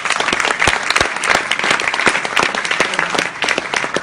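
Steady round of applause from an in-person audience at a presentation, dense overlapping claps filling all four seconds at even strength.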